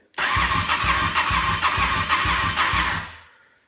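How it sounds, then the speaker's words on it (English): An electric starter with an unusual, weird sound cranks a Honda Superhawk motorcycle engine with a loud, rhythmic whirring churn for about three seconds, close up, then cuts off abruptly. "the starter sounds different, kind of weird"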